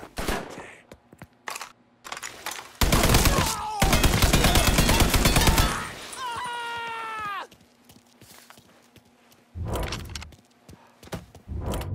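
Heavy automatic gunfire in a Mafia III nightclub firefight: sustained loud machine-gun bursts in the middle, surrounded by scattered single shots and impacts, with another burst near the end.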